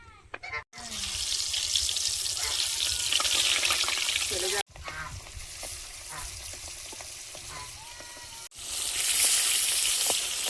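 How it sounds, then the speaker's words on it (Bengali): Oil heating in a wok before pangas fish from a pond is fried, giving a close, loud, steady sizzle with two brief breaks, and faint voices in the background. "কড়াইতে তেল দিয়ে দিলাম"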